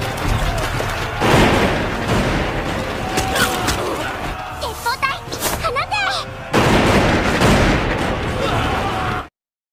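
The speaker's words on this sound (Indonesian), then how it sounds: "di benteng malah terdapat banyak pasukan yang menembak dengan senapan" Anime battle scene with troops firing rifles from a fort: loud cracking shots and bursts over a dense roar, a sparser patch of sharp pops in the middle, then heavy noise that cuts off abruptly.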